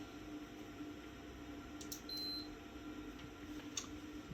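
A multimeter on diode setting gives a single short, thin electronic beep while a Sinclair C5 control board is tested, faint over a low steady room hum.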